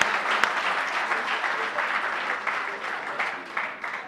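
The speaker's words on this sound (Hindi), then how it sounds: "तालियां हाँ बजाओ" A crowd at a Hindi comedy poetry recital breaks into steady, dense applause, many hands clapping continuously at moderate loudness for about four seconds, with no one speaking over it.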